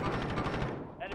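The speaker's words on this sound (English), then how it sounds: "Now that's an enemy precision airstrike" Enemy precision airstrike in Modern Warfare Warzone lands as a dense, continuous roar of rapid blasts and gunfire-like cracks, loud and close, with a voice talking underneath.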